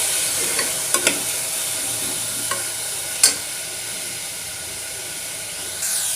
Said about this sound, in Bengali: সবজিগুলো আমি ভালোভাবে নাড়াচাড়া করে নিয়েছি